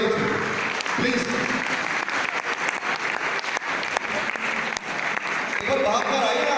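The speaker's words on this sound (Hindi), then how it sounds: "इनके लिए ताली होनी चाहिए प्लीज" An audience at a seminar claps in a dense, sustained burst of applause that carries on throughout, with voices heard over it.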